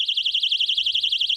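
A personal safety alarm shrieks with a piercing, rapidly warbling electronic tone, loud and continuous with a fast regular pulse, alone without voices.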